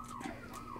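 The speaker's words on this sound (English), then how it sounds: "that's crazy that this alarm is still going off" An alarm wails faintly in the background with a slowly sweeping tone, continuous and distant, with no talking over it.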